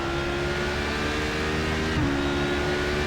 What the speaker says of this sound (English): I know the engine sounds a little bit too high